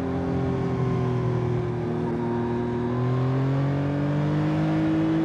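A 2025 Yamaha XSR900 motorcycle engine revs steadily, its pitch rising slowly as the throttle opens, loud and close with no talking.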